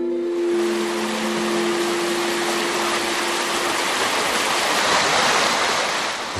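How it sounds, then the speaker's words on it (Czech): Spring water murmurs steadily in the Slavkov Forest, a constant broadband rushing that holds for several seconds. A faint humming tone lies underneath at the start. "Vody ve Slavkovském lese zurčí všude, a to i v parném létě."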